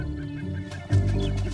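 A greater prairie chicken's low, resonant booming call pulses, with deep hollow hoots rising over a soft background hum.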